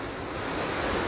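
Strong wind and heavy rain during a daytime storm in Hazaribagh, a steady, loud broadband roar of gusts and downpour running unbroken throughout, with no voices.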